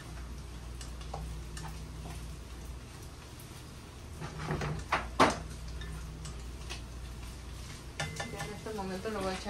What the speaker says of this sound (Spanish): Aquí mismo las voy a freír las lentejas con esta misma grasa.